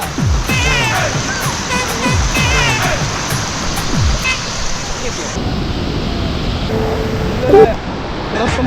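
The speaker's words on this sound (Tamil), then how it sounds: "இந்த பக்கம் ஃபுல்லாக தண்ணி வந்துருக்கு." Rushing river water at Hogenakkal falls, a loud constant roar of churning flow close by, with voices talking over it.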